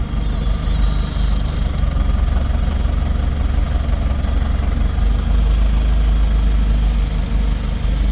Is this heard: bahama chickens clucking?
no